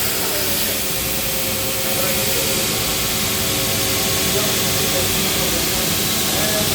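A steel knife blade being sanded in a knife-making workshop gives a loud, steady abrasive hiss with a low mechanical hum underneath, continuous for the whole stretch.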